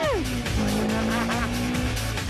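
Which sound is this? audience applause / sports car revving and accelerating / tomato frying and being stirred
sports car revving and accelerating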